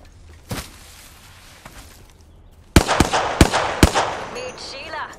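Video game gunfire: a lone sharp shot early, then a cluster of four loud cracks in quick succession with echoing tail, over faint background.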